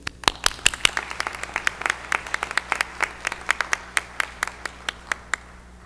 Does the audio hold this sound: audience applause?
yes